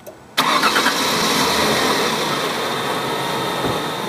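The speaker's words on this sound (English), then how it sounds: "She started right up, right away." A car engine cranks and catches after a jump start from jumper cables, then settles into a steady, loud idle that runs on close by without any talk.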